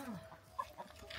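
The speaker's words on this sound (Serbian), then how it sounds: "Jesu ovo tvoje kokoš?" Chickens cluck in a short, faint burst at a rural home, a few soft clucks spaced through the second over background noise.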